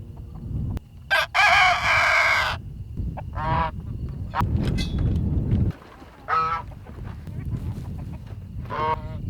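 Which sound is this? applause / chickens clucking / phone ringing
chickens clucking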